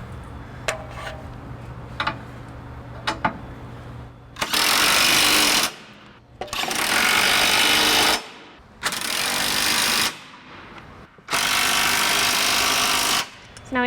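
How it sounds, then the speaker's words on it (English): Bursts of an electric drill spinning an 11/16 inch socket to snug trailer hitch bolts on a 2019 Chevrolet Cruze, five or six loud whirring runs of a second or two each, separated by short pauses. "I'm just going to snug all 4 bolts down with an 11/16 inch socket and my electric drill"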